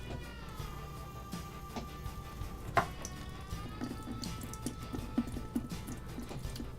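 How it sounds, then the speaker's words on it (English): Water running and dripping through a potted succulent, faint trickles and scattered drips over quiet background hum, with one brief sharp tap midway and no talk. "Just want to let all that water run through there."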